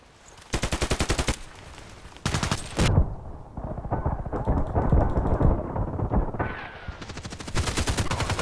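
Rapid bursts of SA58 rifle fire in the shooter game Contract Wars, loud close automatic strings of shots separated by brief pauses, with game sounds between bursts.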